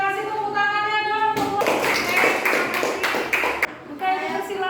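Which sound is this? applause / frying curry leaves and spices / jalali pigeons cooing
applause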